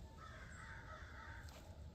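Crows caw along a creek in brushy, leafy ground, a few faint calls carrying from a distance over quiet outdoor background, no voices.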